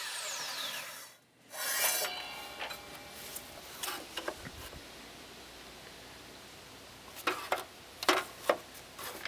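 A hand saw cuts through pallet wood for a pen holder, giving a steady, close rasping scrape with scattered sharper knocks and clicks, and no talking.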